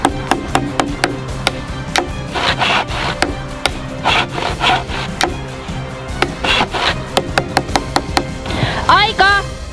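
Rough, rhythmic rasping of a hand saw cutting wood for a soapbox car, repeated strokes with sharp knocks between them, close by, with people talking at times.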